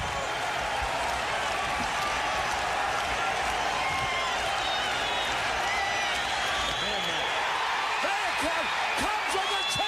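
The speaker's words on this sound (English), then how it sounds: "Listen to this crowd." A packed baseball stadium roars for the Cubs during the 1984 NLCS after a grand slam, a dense continuous crowd wall of cheering and shouting with scattered whistles, loud and unbroken for the whole stretch.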